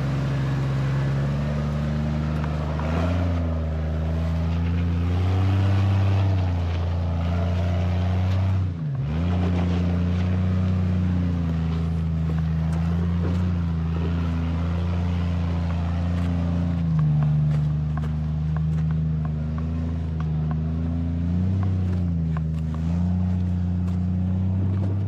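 A Jeep engine drones steadily as it climbs a rocky mountain trail in Johnson Valley, with a dip in revs partway through and continuous nearby rumble, no talking.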